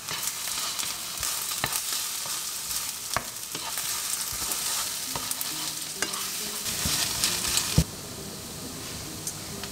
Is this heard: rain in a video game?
no